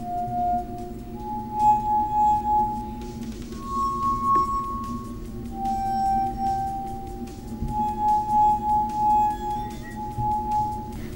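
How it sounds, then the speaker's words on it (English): Wet fingers rub around the rims of crystal glasses, drawing sustained, pure singing tones. Several pitches are heard one after another over about eleven seconds, with faint rubbing and squeaks underneath and no talk. "we're going to wet the top of each glass and just use our finger right across it to get a sound"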